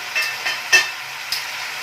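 Schezwan chicken momos being fried and stirred in a pan, a steady bright sizzle with several scraping stirs of the spatula, close and fairly loud, no talk.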